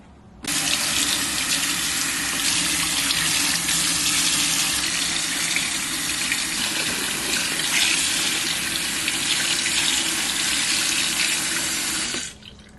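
Running tap water gushes steadily into a sink as dyed bucktail is rinsed, a loud continuous splashing stream that starts abruptly and cuts off near the end.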